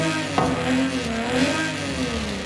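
Car engine in Forza Horizon 5 revving steadily with a rising and falling tone, loud and continuous, plus a brief sharp blip early on; no talking.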